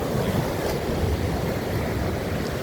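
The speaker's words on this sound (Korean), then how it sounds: "오늘 파도가 많이 칩니다" Ocean waves crashing on rocks along a rocky coast in South Korea in a continuous heavy roar, with wind buffeting the microphone throughout.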